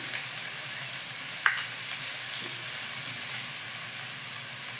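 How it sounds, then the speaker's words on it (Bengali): Food fries in a pan with added turmeric and salt, giving a steady, close sizzle under stirring. A single sharp utensil clink sounds early on, and there is no talk. "আর একটু হলুদ দিয়ে আর কিছুক্ষণ ভাজবো"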